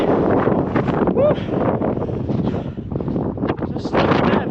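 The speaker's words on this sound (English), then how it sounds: "it's windy up here" Strong gusts buffet the microphone in a steady, heavy roar on a mountain ridge trail, lasting the whole time, loud and close, with no voices.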